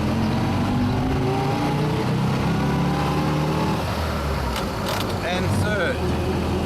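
A 1928 Austin 7 Chummy tourer accelerating through the gears, its small engine buzzing loudly with shifting harmonic tones that drop and climb again near the end, a voice speaking briefly over it.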